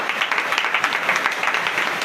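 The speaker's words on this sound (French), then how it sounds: "Donnez l'acclamation à notre Seigneur Jésus." A church congregation applauding during a night deliverance service in Benin, dense rapid clapping throughout, fairly loud and close, with no talk over it.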